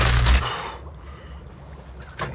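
Spider bomb detonating on a stapled metal vest, a loud close blast at the start that quickly decays into a low rumbling tail, with a short sharp pop near the end.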